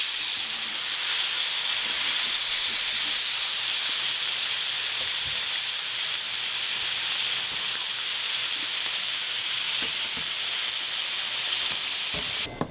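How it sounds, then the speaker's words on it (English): Steak sizzles in a hot skillet with a touch of olive oil, a steady, dense, close hiss and crackle that holds unbroken for the whole stretch, with no one speaking. "we've got the skillet heated up, touch of olive oil in with the steak"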